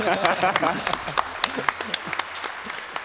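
A short burst of scattered applause from a small audience at a speedrun marathon event, claps irregular and moderately loud, fading toward the end.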